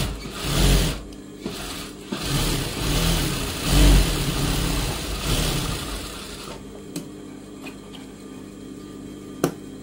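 A sewing machine runs in rapid mechanical bursts while stitching a blouse strip, its motor whirring loudly and stopping then restarting over the first six seconds before quieting to a few faint clicks.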